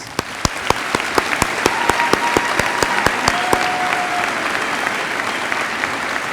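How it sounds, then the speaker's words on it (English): Audience applause fills a high school graduation ceremony as a steady wash of clapping at moderate distance, with a few louder individual claps near the start. "Let's give them a round of applause."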